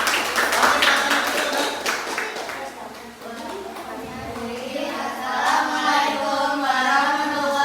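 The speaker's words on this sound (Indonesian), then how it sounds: "tepuk tangan untuk kelompok Face ID" A classroom group claps for a student team after its presentation, a brisk burst of hand claps that soon thins as voices take over and talk continues.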